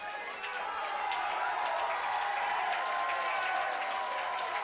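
English lacrosse fans at an under-20 championship match against Germany cheer and celebrate, a steady, distant wash of crowd noise and applause with voices blended in.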